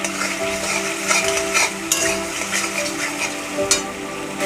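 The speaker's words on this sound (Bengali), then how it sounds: "আমি এবার দিব হলুদ গুঁড়ো, ধনে গুঁড়ো, জিরে গুঁড়ো, এসব একসঙ্গে কষিয়ে নিব" Boiled lentils being sautéed with turmeric, coriander and cumin powder in a pan, a dense sizzle with repeated scraping stirs and a few utensil clinks against the pan.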